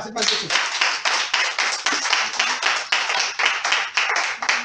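A church congregation claps in a steady, fast rhythm during a sermon, loud dense hand claps filling the space with voices joining in acclaim.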